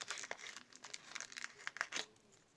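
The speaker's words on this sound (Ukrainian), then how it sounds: "Давайте сьогодні відкриємо цей пакетик." Close, crisp crinkling and tearing as a paper surprise packet is opened, with quick bursts of rustling in an irregular rhythm.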